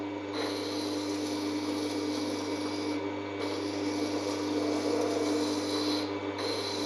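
A chisel being sharpened on a water-cooled Tormek grinding wheel in a jig, giving a continuous close abrasive rasp that shifts as the blade is run side to side across the stone.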